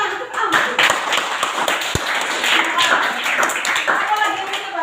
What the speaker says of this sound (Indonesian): Tepuk tangan untuk alam.